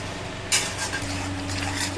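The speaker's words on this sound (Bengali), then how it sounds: "এই ছোলার জলটা দিয়ে দেবো অল্প করে যাতে মশলাটা পুড়ে না যায় জলটা দিয়ে একটু কষে নেব" Chickpea masala for kabuli chana being stir-fried in a pot as a splash of chickpea cooking water goes in, with a sudden clatter of utensil against pan and a low steady sizzle underneath, close and moderately loud.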